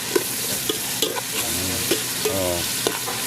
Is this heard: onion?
yes